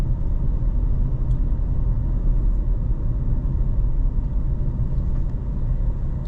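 A car drives along the main road through downtown Hua Hin, Thailand, heard from inside as a steady low engine rumble with road and tyre noise that hardly changes throughout. Nobody speaks.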